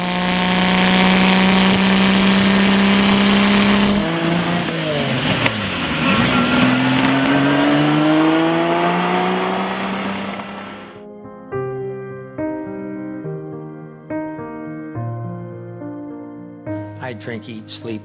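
A Lamborghini Miura engine sustains a loud, high whine that drops, then climbs again as the car accelerates. It fades into a stepped, tonal passage near the end.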